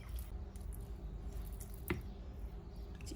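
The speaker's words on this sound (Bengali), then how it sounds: "এই মশলাটাকে আমি চিকেনের সাথে ভালোভাবে মাখিয়ে নিচ্ছি যেন সবগুলো মশলাই চিকেনের সাথে খুব ভালোভাবে মিশে যায়।" Raw chicken being worked by hand with a spice rub, giving soft wet squishes and small sticky drips, quiet and close, with one sharper slap near the middle.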